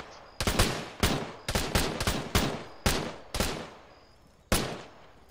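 Loud, close gunshots crack in irregular bursts in the military video game Arma during a ShackTac session, each shot followed by a short decaying echo, with gaps between volleys.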